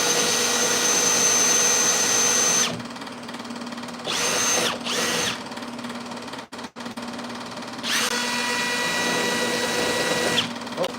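A power drill bores a pilot hole into the rear lower quarter panel of a 1968 Lemans, running in loud high-pitched bursts with short pauses and a brief stop partway through, heard close and alone.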